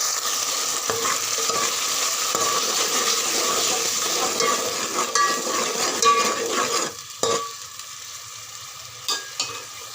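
Yogurt being stirred into a pan of frying cauliflower, peas and potato, giving a steady close sizzle with scraping stir strokes that thin out toward the end.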